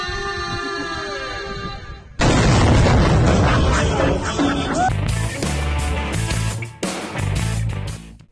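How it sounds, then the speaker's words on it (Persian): Missile firing and explosions: a sudden loud blast cuts in after a tonal lead-in, followed by a sustained roaring rumble with further booming bursts and crackling impacts, close and heavy. "وقتی نوبت به شلیک این موشک‌ها برسه با یه چنین صحنه‌ای مواجه میشه"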